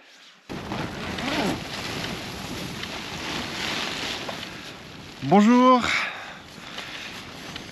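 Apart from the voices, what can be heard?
strong wind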